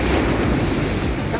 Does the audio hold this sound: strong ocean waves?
yes